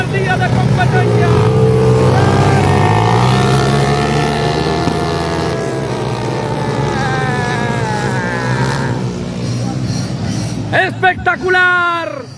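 Motocar race karts at the start of a Moto Car Club motocross race in Satipo, engines roaring loud and continuous beneath an announcer's voice and crowd, with a few sharp revving bursts near the end.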